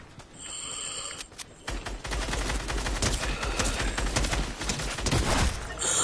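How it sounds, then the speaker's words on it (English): Rapid gunfire from a Fortnite Team Rumble match rattles in dense, sustained bursts, loud and close, with a brief quieter stretch before the shooting picks up again. "Bruh, I shot the little fucker."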